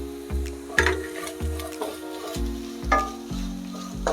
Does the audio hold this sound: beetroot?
yes